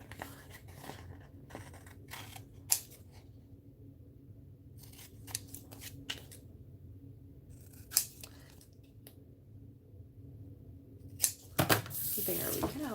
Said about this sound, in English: so you can cut your bookmark out